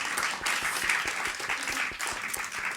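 Steady applause from an audience at a French-language theatre awards gala fills the space, a dense, even wash of clapping with no voices over it.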